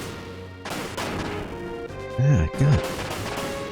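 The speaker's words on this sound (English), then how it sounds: "It's a little annoying about how like these explosions are hurting me" Explosions rumble through a battle in the video game Front Mission: Gun Hazard, with several sharp broadband bursts and crashes over a steady game-music bed, plus a brief spoken exclamation.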